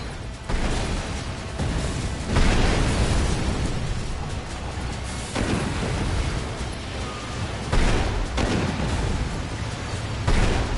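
Cannon fire and explosions in a Sand Land video game battle: repeated loud booming blasts every couple of seconds over a continuous roar of combat, dense and close.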